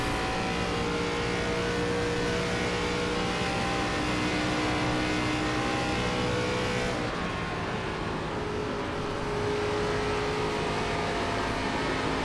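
An ARCA race car's engine drones steadily at Indianapolis in the iRacing sim, a loud, sustained tone held at speed with a brief pitch shift midway, no voices.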